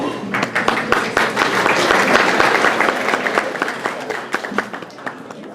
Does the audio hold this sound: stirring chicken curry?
no